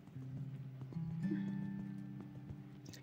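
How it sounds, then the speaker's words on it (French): Horse hooves clip-clop in the video game Equestrian the Game, a steady run of soft steps mixed with the game's ambient tones and no talking. "Là aussi, on a un petit son de sabot."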